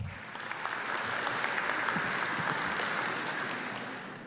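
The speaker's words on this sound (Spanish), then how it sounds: "Fuertes palmas, por favor." Sustained audience applause at a national youth parliament inauguration ceremony, steady dense clapping from a large crowd that swells slightly and holds for several seconds.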